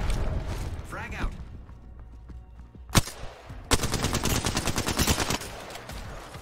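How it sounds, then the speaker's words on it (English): Rapid gunfire from a 30-30 Repeater lever-action rifle in the Apex Legends firing range: a sharp single shot, then a dense burst of repeated cracks with mechanical clicks between, under occasional talk. "Oh, dude, that 30-30 is gnarly."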